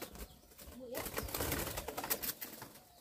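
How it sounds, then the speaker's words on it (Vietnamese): Spotted doves kept by a bird raiser struggle and beat their wings in a cage, a close, busy flurry of flapping with soft cooing mixed in and a person's voice faintly underneath. "Chim vùng khiếp nhỉ, thế này thì hỏng hết lông chim à"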